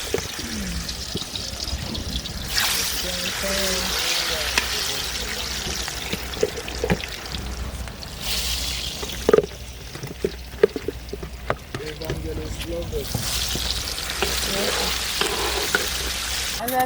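Plantain slices frying in hot oil at a Nigerian street food stall, a steady bright sizzle running throughout with occasional clinks and stirring knocks, close and fairly loud.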